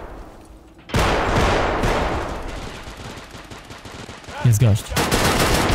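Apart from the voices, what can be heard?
pump shotgun firing in Escape from Tarkov Arena video game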